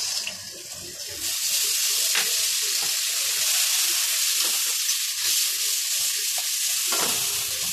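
Whisked yogurt poured into frying spices in a pan on low heat for a curd eggplant dish, a sudden swell into dense, steady sizzling hiss that runs on evenly with faint stirring clicks.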